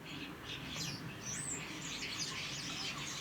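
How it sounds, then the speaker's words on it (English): Wild birds chirp and tweet at a garden feeder on a freezing morning, with a steady scatter of small high calls over faint outdoor background noise throughout. "The birds are all visiting because we've got our tree stacked with not so nice birdie snacks out there"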